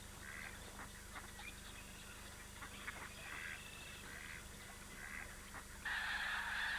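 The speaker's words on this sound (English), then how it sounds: "The skeins of incoming snow geese contain both white and blue-coloured birds" Lesser snow geese, white and blue birds in incoming skeins at Sand Lake in spring, give scattered nasal calls at a distance, a few at a time, rising to a louder burst of calling near the end.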